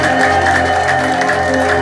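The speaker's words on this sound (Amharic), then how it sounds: "ጭብጨባ" A congregation claps together during a church worship service, a dense, loud, steady wash of applause over a sustained musical hum.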